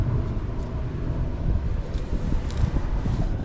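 Gusty wind rumbles and buffets the microphone in a steady, fairly loud wash of low noise outdoors while work is done on a 1969 Dodge Charger master cylinder.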